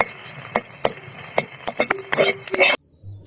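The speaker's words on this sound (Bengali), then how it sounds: "এখন একটু নাড়িয়ে ফেলে নামিয়ে নিই" Boiled potatoes frying in a pan are stirred with a utensil. Sharp scraping clicks come one after another over a constant hiss of sizzling oil, and everything cuts off abruptly near the end.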